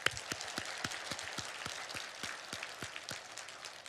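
A church congregation claps in a steady, even rhythm, the claps faint and fairly distant, with no talking over them.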